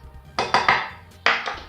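A metal spoon stirs milk, sugar and instant coffee in a cooking pan, giving a few sharp metallic clinks and scrapes in quick succession, then a short gap and one more clink, close by with no talking.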